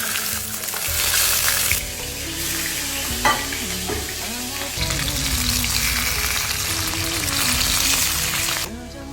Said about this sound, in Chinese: 我去煎鱼